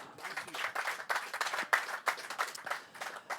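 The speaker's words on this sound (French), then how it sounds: "on peut l'applaudir également" Applause at a local investment awards ceremony in Châteauroux as a guest takes a seat beside the mayor, a short burst of clapping from a modest crowd, moderately loud and uneven, with voices mixed in.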